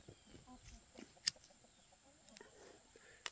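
Chickens cluck faintly in short scattered bursts, with a few brief sharper clicks in a quiet outdoor setting.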